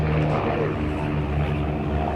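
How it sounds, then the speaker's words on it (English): An Xtremeair aerobatic light aircraft flies over the Abingdon 2023 display as part of an aerobatics team, giving a continuous loud propeller engine drone with no break. "Bit of an unlikely aeroplane to be so aerobatic."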